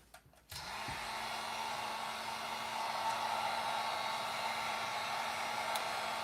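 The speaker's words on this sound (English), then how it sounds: "When the heat gun's really hot like this, it happens pretty quick." A hot heat gun blows a steady, loud rush of air with a faint whine while it warms plastic model parts for an Ultimate Castle Grayskull build, starting after a brief clatter and continuing alone.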